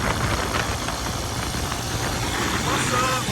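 A 125cc go-kart engine runs steadily at close range, a constant buzzing drone with no pauses, while a person talks over it.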